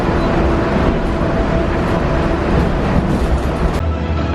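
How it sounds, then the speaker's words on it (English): A Disney monorail train rumbles along, a loud steady drone of motor and wheel noise filling the cabin, easing slightly near the end. "we're gonna hop aboard the monorail here"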